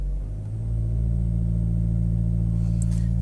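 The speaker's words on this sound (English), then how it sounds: "the engine is running at a higher RPM and there is some electricity being pumped into the battery" A Chevy Volt's gasoline engine runs at elevated RPM in mountain mode while charging the battery, giving a steady, droning mid-pitched hum heard from inside the car.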